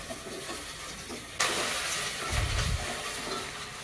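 A spice paste of garlic and ginger for duck curry frying in a pan. A sharp sizzling hiss bursts in suddenly partway through and keeps going, close and fairly loud, with a low scraping rumble later.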